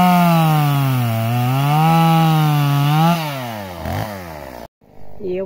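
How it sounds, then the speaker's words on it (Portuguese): A chainsaw whines loudly and steadily while cutting through pine trees during thinning for firewood, with pitch dips as it bites into wood before abruptly stopping and restarting. "Vai serrando tudo, depois a gente vai só organizando para facilitar para retirar."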